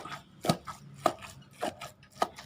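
Four steady, evenly spaced pestle thuds pound a fresh paste of shallots, garlic, galangal, lemongrass and chilies in a mortar for Isan fermented fish dip, each strike sharp and close with a short scraping tail.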